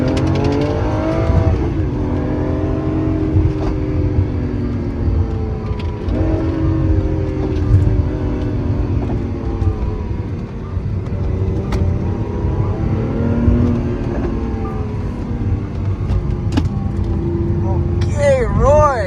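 A Lamborghini Aventador SVJ accelerates hard around a race track, its loud engine climbing in pitch again and again through repeated gear changes over nearly twenty seconds.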